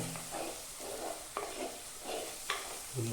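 Coriander powder being stirred as it fries in a fish curry pan: soft repeated scraping sweeps with a few sharper clicks of the spoon against the pan, faint and close, with no talking.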